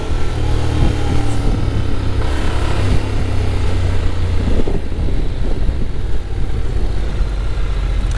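A Honda Forza 750 maxi-scooter engine hums and pulls, its pitch stepping through a couple of gear changes, with wind noise rushing over the microphone the whole way.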